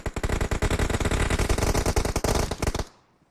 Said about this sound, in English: lots of gunshots there